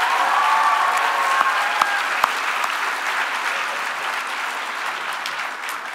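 Audience at a national pro-life summit applauding, sustained loud clapping from a large crowd that fades slightly toward the end.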